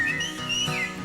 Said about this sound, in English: And when I hit my thumb a lot, I whistle this little song.